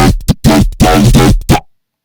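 A dry neurofunk synth bass without any post-processing plays loud and up front in choppy, stuttering bursts of gritty, broadband growl, with sharp gaps between hits before stopping into silence.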